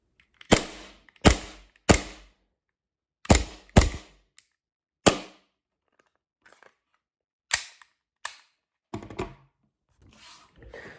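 AW Custom VX7 Z80 airsoft pistol firing on green gas, a series of sharp snapping pops in uneven clusters, some close together and others spaced apart, with a few quieter clicks between them.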